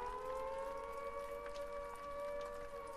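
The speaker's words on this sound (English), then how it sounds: "What's that siren for?" A siren in the post-apocalyptic Australian game Repella Fella wails steadily, a sustained droning tone with layered harmonics held without break, fairly faint and alone with no talk.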